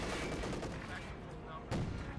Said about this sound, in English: 37mm flak fire